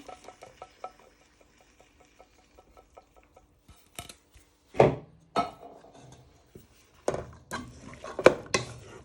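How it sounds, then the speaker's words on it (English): Beef in black bean sauce stirred around a pan, with a run of light rhythmic scrapes and taps from the utensil, then louder clattering knocks and scrapes against the pan close by, with no talking. "And you give that a bit of a stir. So you get all the way around the pan."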